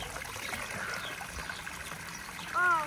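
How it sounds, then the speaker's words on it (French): Cold mountain water runs steadily from a fountain on a climb to the summit of the Salève, a soft continuous trickle and splash up close, with a voice briefly heard near the end. "Chaque fois qu'il y a une fontaine, faut qu'on mette la tête sous l'eau."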